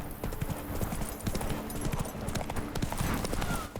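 Steady clip-clop of horse hooves from the horse Roach in The Witcher 3, a brisk regular trotting rhythm that is close and continuous, with game ambience behind it.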